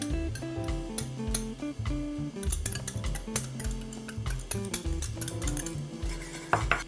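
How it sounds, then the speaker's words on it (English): A whisk beats heavy cream in a pot for short rib truffle mac and cheese, giving rapid close metallic clinks and taps against the pot in an irregular stirring rhythm. "Also got some heavy cream. I'm gonna whisk that in"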